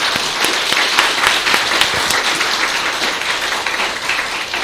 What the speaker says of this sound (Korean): 오늘 세례받고 입교한 우리 세 분을 위해서 다시 한 번만 박수 한번 주시기 바랍니다.